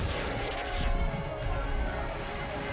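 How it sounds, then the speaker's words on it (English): Broadside cannons firing as a tabletop role-playing game sound effect, a dense, sustained roar of booming artillery fire at steady loudness throughout. "Serenity flies over at 90 miles an hour as Dustchin fires the broadside cannons."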